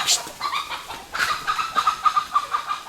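A chicken clucks repeatedly in a quick, uneven rhythm on a quiet farm, fairly close and clear, with no voices.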